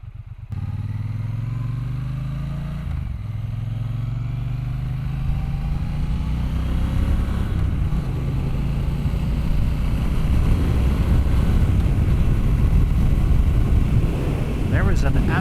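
A Triumph T120 Black Goldline 1200cc motorcycle rides along a road near Alpine Valley, its engine note rising steadily from a low idle-like rumble into a loud, sustained roar with building wind noise, close to the microphone throughout.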